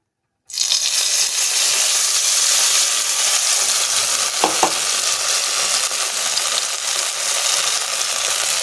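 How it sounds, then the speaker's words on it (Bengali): Ground spice paste hits hot white oil in a wok and sizzles loudly and steadily, a dense continuous fry with a brief clink midway, no voices. "এবার এই যে মশলাটা বেটে নিয়েছি, এটাকে আমি, তেল গরম হয়ে গেছে, এর মধ্যে দিয়ে দেব"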